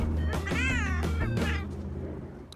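A farm cat in Bali, Indonesia meows loudly and close up, a drawn-out, wavering cry followed by a shorter one, over a low rumbling background.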